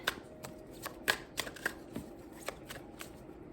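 Tarot cards being shuffled by hand, a steady run of crisp riffling flicks and soft slaps repeating across several seconds, fairly quiet and with no talk.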